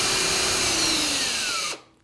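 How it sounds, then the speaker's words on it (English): A cordless drill whirs steadily, its pitch sliding as the motor speed changes, then cuts off abruptly near the end, loud and close. "The more you pull the trigger, the faster the drill spins,"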